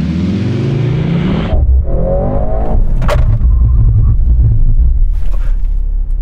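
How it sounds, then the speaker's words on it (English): Mercedes C63 S E Performance accelerating hard with a loud rising engine note, then cutting off abruptly into a low rumble as it brakes to a complete stop, with faint tyre and cabin noise afterward. "can you do a full emergency brake? Like, full-on hardcore braking?"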